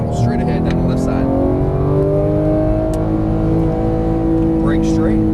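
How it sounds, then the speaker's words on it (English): A Porsche 911 GT3 (991) at full throttle on a track, its high-revving engine a loud, steady, continuous roar with rising pitch. A voice talks over the engine noise. "full throttle straight ahead down the left side."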